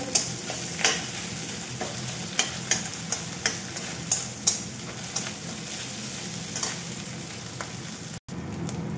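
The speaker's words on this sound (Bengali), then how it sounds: "দেখো মাছের মাথাটা খুব ভালো করে ভেজে নিয়েছি।" A fish head fries in hot oil in a pan, a steady low sizzle punctuated by regular sharp taps and scrapes of a spatula, close up with no voices.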